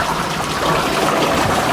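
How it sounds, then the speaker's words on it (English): Water rushes through the bottom drains of a tank into a vortex, a loud, close, continuous gurgling flow that stays steady without pause. "So that pulls the water through nice and fast, and it purges out any sediment that's accumulated in the bottom drains."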